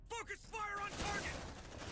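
Gunfire in the video game Aliens: Dark Descent, a dense burst of rapid shots that follows a short spoken order and holds steady to the end.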